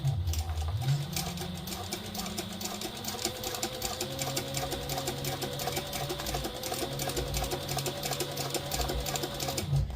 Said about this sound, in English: I'm going to sew the other one real quick